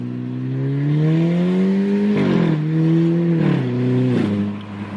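An Audi A4 B8.5 with an Armytrix aftermarket exhaust rises through the revs and shifts gear twice, each shift a loud, close crack as the engine note drops and climbs again.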